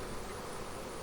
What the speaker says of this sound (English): There's a nice full frame of bees right there